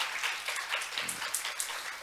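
Brief applause from a forum audience in Jeju for the presenters, a short patter of scattered clapping that rises and falls over two seconds.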